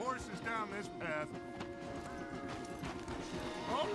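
Rhythmic clip-clop of horse hooves in Red Dead Redemption 2 under people talking, with a short whinny and some game-style background sounds.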